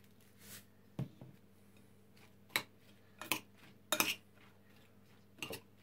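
Two eggs with salt are mixed in a bowl, a sparse series of sharp utensil clinks and taps against the dish spaced a second or so apart over a quiet background, near and with no talking.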